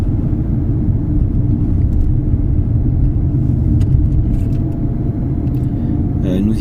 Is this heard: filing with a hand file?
no